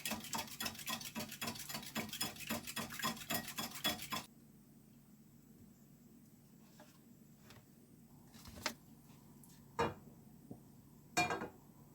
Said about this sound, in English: Whisk the egg to nice smooth consistency